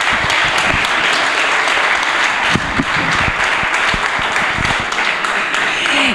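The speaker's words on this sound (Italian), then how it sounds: "Applauso." Sustained applause from a large crowd, dense and loud throughout, with a voice briefly audible beneath it.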